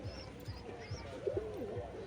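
Pigeons in a loft giving soft, repeated low coos in a steady pulsing rhythm, faint and close, with a light background hiss.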